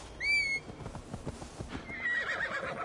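A horse whinnies loudly once when called in the game Assassin's Creed Valhalla, then hooves clip-clop closer, and a softer snort or neigh follows.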